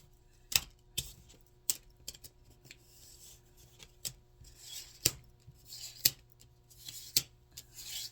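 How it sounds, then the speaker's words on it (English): Tarot cards being moved and shuffled on a surface, giving a series of sharp, close slaps and soft rubbing sounds at irregular intervals in a quiet room. "Let's move these cards up."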